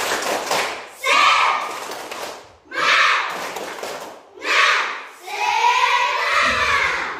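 Schoolchildren in a classroom do a rhythmic spirit clap before a maths lesson, with bursts of claps and thumps between stretches of loud group chanting and voices.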